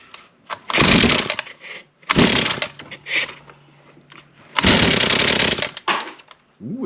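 Small engine in a repair shop cranked on choke, coughing and briefly firing in loud bursts of sputtering roar separated by short pauses, close up with no talk.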